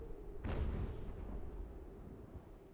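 Cannon artillery fire in Ultimate General: American Revolution, a single deep boom near the start that rolls off into a low rumbling tail beneath a steady game background hum.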